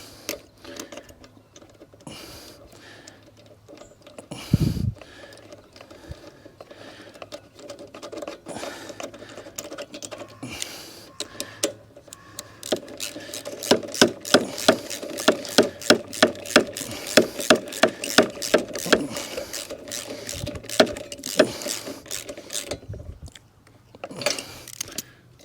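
A scrap lawn mower, just revived with carburettor spray, runs with its self-propelled drive engaged, giving a close, steady mechanical clatter with rapid rhythmic ticking that swells in the middle and cuts off near the end.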